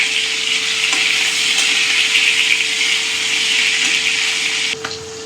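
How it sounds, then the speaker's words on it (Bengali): Hilsa fish fry in a pan with a loud, steady, close sizzle and crackle that runs throughout, with a thin steady hum beneath and a brief clatter near the end. "ইলিশ মাছ বেশি করে ভাজবো না,"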